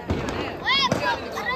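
Sky shot fireworks go off during a Diwali celebration, a couple of sharp pops with whistling bursts in quick succession, heard nearby under excited voices talking.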